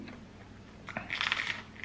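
A single crisp crunch as someone bites into a Subway chicken fillet sub, close to the mic, following a moment of quiet chewing and room noise.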